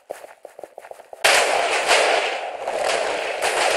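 An explosion destroys a player's base in a video game, a loud sudden blast that cuts off a run of quieter rapid popping and then rolls on as a sustained, dense roar of debris and fire.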